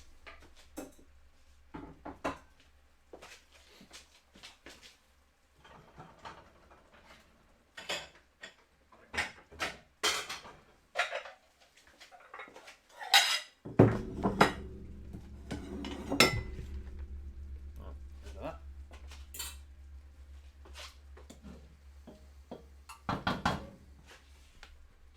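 Bowls and cutlery clink, knock and rattle while food is served, mostly faint and scattered, with one louder thump followed by a low rumble partway through and occasional drawer-like mechanical noises.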